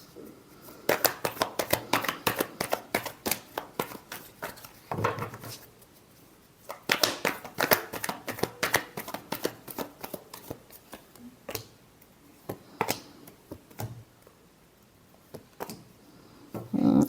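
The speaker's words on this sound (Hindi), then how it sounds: "Last shuffle." Tarot cards being shuffled by hand in rapid bursts of crisp riffling and flicking, loud and close, with short pauses between rounds.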